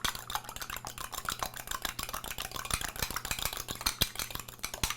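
A single raw egg being whisked in a bowl for a filling, giving steady rapid clicking strokes of the whisk against the dish, close and continuous with a faint low hum underneath.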